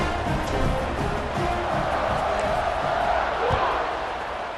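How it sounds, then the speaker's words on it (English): Dense, steady stadium crowd roar and cheering in the EA Sports College Football 26 video game, loud and continuous across the whole stretch, with a commentator's voice faintly under it. "this crowd now ready to get behind them."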